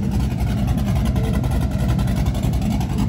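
A restored 1980 Chevy Camaro Z28 with a big-cam 7.0-liter V8 idles loud and close, its deep rumble loping unevenly in a steady throbbing pulse.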